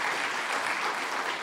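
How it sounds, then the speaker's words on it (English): Steady applause from an audience at a darshan gathering at Bhaktivedanta Manor, a short, even wash of many hands clapping at moderate volume with no voices over it. "Give her a round of applause,"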